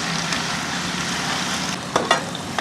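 Ginger garlic paste fries with chicken in a pan for chicken pickle, a continuous close crackling sizzle with a couple of sharp stirring scrapes near the end.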